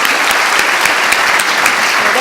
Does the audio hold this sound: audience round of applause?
yes